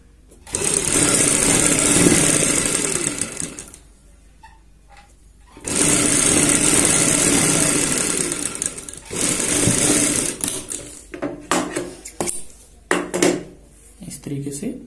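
A sewing machine stitches piping onto a kurti neckline in two long, steady runs, then shorter stop-start bursts with clicks and handling noises.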